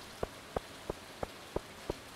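Rainy-day weather in the farming game Stardew Valley: a quiet, steady patter with regular droplet plinks landing roughly three times a second, evenly paced and alone, no voices.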